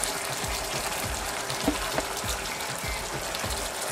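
A pot of shrimp curry bubbles and simmers with a steady crackling, sizzling wash of small pops, close by and fairly quiet, with no voices.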